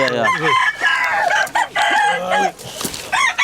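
A gamefowl rooster, a Roundhead and Hennie cross, crows loudly and close by in several strained calls, with clucking between them and brief background talk.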